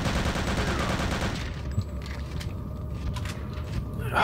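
Rifle fire in the shooter game Return to Castle Wolfenstein, a dense burst of overlapping shots for about a second and a half, then quieter game ambience with scattered faint reports.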